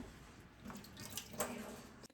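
Water poured out of an opened tofu package, a soft, fairly quiet splashing trickle lasting about two seconds before stopping abruptly, with no talking.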